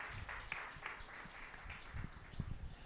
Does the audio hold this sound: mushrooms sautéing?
no